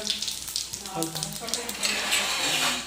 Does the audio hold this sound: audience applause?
no